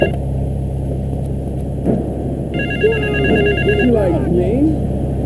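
A payphone in a South Belleville park rings in Grand Theft Auto III with rapid electronic trills, heard over game music and chattering voices.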